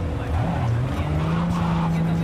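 A car in the video game Cyberpunk 2077 drives and skids: a droning engine with a rising and sustained whine, tire squeal over a low rumble, continuous and fairly loud.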